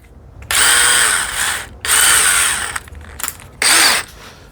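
Power drill boring a 1/8 inch pilot hole into wood for a TV unit, heard in three loud whirring bursts of about a second each, separated by short pauses and a brief faint blip.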